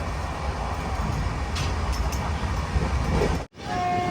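Sleeper-class coach of the Madhya Pradesh Sampark Kranti Express rolling at low speed through farmland at dusk, a steady broad rumble of wheels and carriage noise, close and continuous, with a brief sharp dropout near the end.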